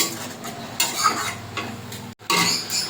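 A utensil stirs masala for a fish curry in a pan. Scraping strokes mix with a soft sizzle, broken by a brief pause before water goes in and the sizzle surges louder.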